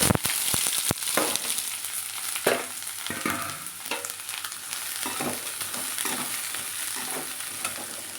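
Onions sizzle and crackle in hot oil, with a few sharp clatters of stirring at the start, then a steady frying hiss with intermittent scrapes.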